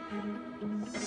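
A mosquito whines in a close, continuous high-pitched buzz, wavering slightly in pitch over a brief moment with no other sounds.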